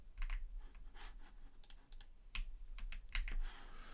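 Computer keyboard typing during a photo-editing livestream: scattered, close key clicks in short irregular bursts with brief pauses, fairly quiet and with no talking.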